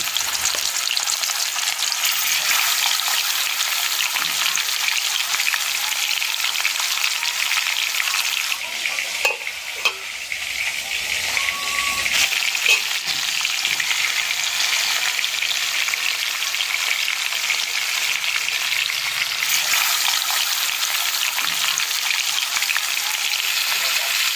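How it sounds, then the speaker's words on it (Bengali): Pieces of kan fish frying in mustard oil in a pan, a steady dense sizzle and crackle running throughout with brief clinks of handling midway. "আমি এবার মাছগুলো ভেজে নেবো"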